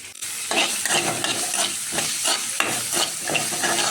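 Chopped onions and green chillies sauteing in a pan, a loud close sizzle with rhythmic scraping strokes of a spoon stirring through them.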